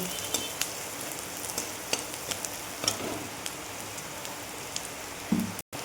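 Vegetables for chowmein fry gently over a low flame, giving a steady, soft sizzle with scattered light crackles and pops throughout, close by and without talk.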